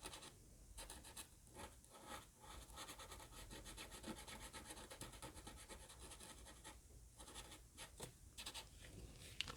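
A fine-tip marker colors a Dollar Tree pumpkin decoration in close, very quiet scratchy strokes that repeat steadily in short rubbing bursts with no talking.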